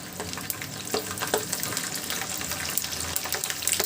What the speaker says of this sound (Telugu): మనం ముందుగా ఒలిచిపెట్టుకున్న వెల్లుల్లిపాయలు వేసుకున్నామండి.